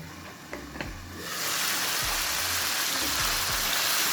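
Sliced tomatoes cook in a covered pan, giving a soft, steady sizzle and hiss that rises after a few faint knocks and then holds evenly, fairly quiet and with no talk.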